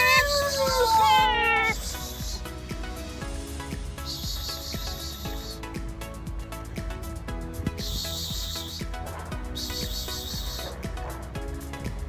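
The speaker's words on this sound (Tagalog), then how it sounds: "kumakain na yung ating mga alagang pusa" Stray cats being fed give a few wavering meows at the start, fairly close, before background music with rhythmic beats takes over.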